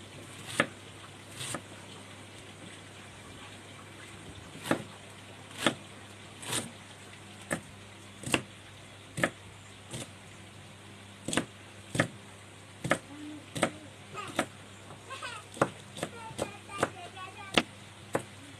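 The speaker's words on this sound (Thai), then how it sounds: "หั่นถั่วก่อนค่ะหั่นสั้น ๆ เราจะก็หั่นเล็กๆนะคะ ทุกท่าน หั่นบางๆค่ะ" A knife chops green beans into thin, short pieces on a board, landing as a steady series of sharp, evenly spaced strokes, close and clear, picking up pace toward the end.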